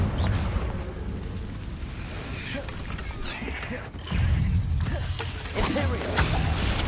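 Confringo fire spell blasts in the Hogwarts Legacy video game, a dense stream of game effects with crackling impacts and low booms, loudest bursts near four and six seconds.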